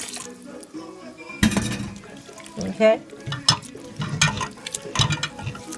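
Water is poured from a small pan while making black bean soup, splashing and trickling in uneven bursts close by, with a person speaking briefly.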